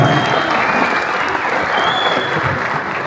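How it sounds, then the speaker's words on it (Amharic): A film premiere audience claps in a thick, sustained wash of applause that fills the room evenly throughout, loud and close, with faint crowd murmur beneath. "ጭብጨባ፣ ሞራል ድጋፍ ያስፈልጋል።"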